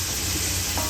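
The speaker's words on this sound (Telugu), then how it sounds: "ఉల్లిపాయలు బ్రౌన్ కలర్ వచ్చే వరకు కాసేపు మగ్గించుకుందాం." Onions sautéing in a pan for soya pulao, a close, steady sizzle with a soft stir, brief and uninterrupted.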